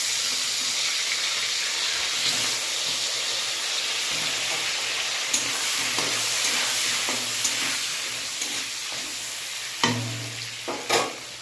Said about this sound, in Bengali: হালকা ফ্রাই করে নেব।